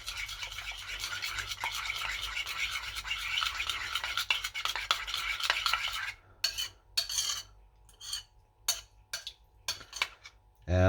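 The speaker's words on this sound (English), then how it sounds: "We mix this well." Tzatziki sauce is stirred in a bowl, a close, steady scraping and swishing at first, then breaking into short separate scrapes and taps of a utensil against the bowl, with no speech.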